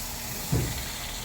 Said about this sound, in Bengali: এবার আমার মশলাগুলো ভাজা হয়ে গেছে